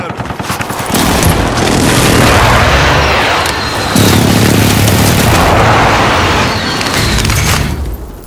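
An enemy precision airstrike in a video game sets off a long, loud, continuous roar of explosions and rattling gunfire, heavy and close for several seconds before fading, with players' voices now and then beneath it.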